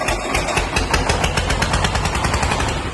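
A mini tractor's small engine starts and runs with a rapid, steady knocking chug, loud and close, its rhythm pulsing evenly throughout.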